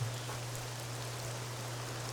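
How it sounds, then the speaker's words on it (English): Steady rain falls on a beach in an adventure-mode video game, a continuous even hiss with a low electronic hum beneath and no talking. "I'm on a beach. It is raining."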